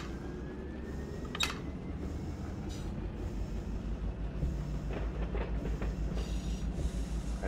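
A freight train rolls along rails through a yard at about 15 mph with a continuous low rumble, faint clicks and metallic squeals rising over the steady drone.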